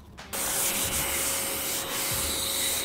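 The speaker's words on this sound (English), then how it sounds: "The most important thing with sanding is making sure this outside ridge disappears." A flat sanding block rubs steadily over a fresh drywall patch, a continuous close, loud scraping hiss with slight back-and-forth swells, no talking.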